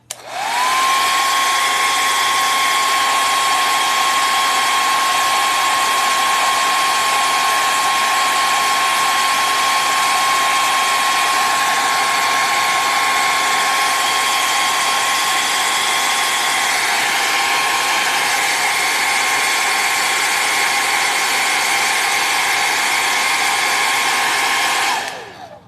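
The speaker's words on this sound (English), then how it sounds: "I think I might hit it with my blow dryer" Loud, steady whine of a handheld blow dryer aimed at drying brown paint on an art piece, running continuously with a constant tone for about twenty-five seconds before shutting off.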